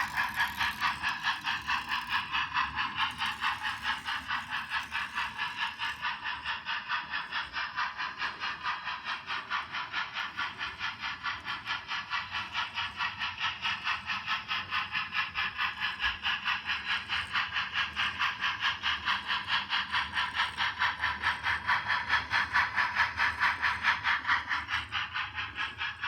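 A train engine works up a roughly 2% grade on a main line, giving a steady rhythmic clatter and rattle of wheels and mechanism that holds at a constant moderate level throughout, with no talking.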